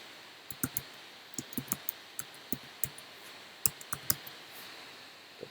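Light, scattered keystrokes tap on a computer keyboard in a quiet room, irregular and fairly close, with short pauses between small clusters of clicks and no talking.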